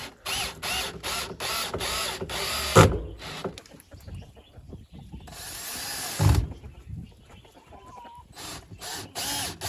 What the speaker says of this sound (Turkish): Kestiğim parçayı işkenceyle depoya sabitleyip diğer parçalara vidalıyorum.